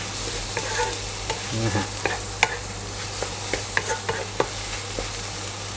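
Spinach and egg stir-fried dry in a pan, with a steady sizzle under sharp, repeated clacks of a spatula scraping and tossing, close and fairly loud; no talking.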